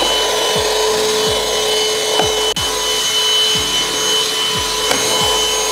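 A new cordless vacuum cleaner with a brush head runs loudly and continuously, its steady motor whine joined by rhythmic scraping strokes as it works over a surface with cat hair.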